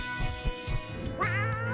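A pet cat meows a few times in a plush indoor setting, with soft rising and falling calls in the first second, then a longer, brighter, wavering cry near the end.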